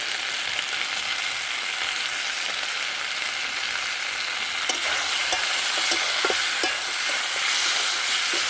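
Tomatoes frying in a pan of spiced masala in a home kitchen, a steady, close hiss and crackle with a few soft stirring scrapes toward the end and no talking.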